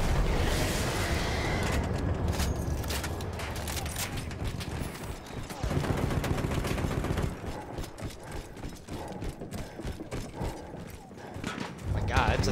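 Naval cannon fire in the Battlefield 1 campaign, a dense barrage of booming blasts and clanking mechanical gun noise that rolls on continuously, loud and close, with a voice speaking over the din.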